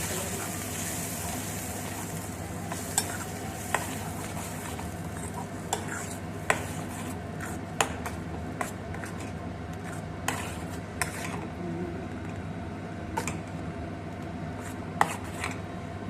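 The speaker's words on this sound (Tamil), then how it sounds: "இப்போ வந்து பூண்டு வெந்துருச்சு, இப்போ ஊற்றிக்கலாம் தக்காளி பீஸை." Ground tomato is poured into garlic frying in a pan for a tomato and garlic thokku, then stirred. A steady sizzle runs throughout, broken by occasional sharp clinks of a spoon against the pan.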